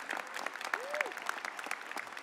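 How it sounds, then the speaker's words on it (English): Audience at a graduation ceremony applauds, scattered hand claps heard fairly faint and distant with an uneven, patchy rhythm and a brief vocal sound among them. "And a round of applause to graduates, friends, and family in attendance and watching online."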